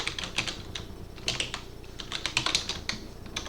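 Keys on a computer keyboard clatter as a command is typed: a quick, irregular run of close, crisp clicks with no other sound.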